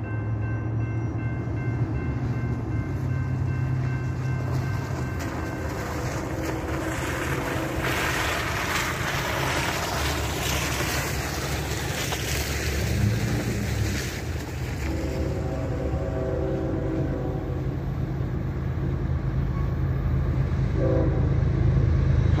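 A long freight train pulled by five locomotives rumbles past at a steady roar, heavy engines droning and rail noise building toward the end, with a horn-like tone partway through.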